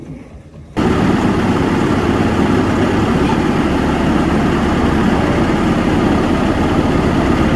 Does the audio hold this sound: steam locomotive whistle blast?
no